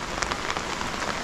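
Heavy rain pours down steadily nearby, a dense hiss with scattered louder drop impacts on a hard surface and no speech.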